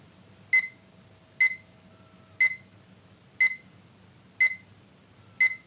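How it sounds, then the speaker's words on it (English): A VADIV CL01 alarm clock sounds its alarm: six short, bright beeps repeating about once a second at an even pace, loud and close, with a faint hum between them. "Yep, that's an alarm clock."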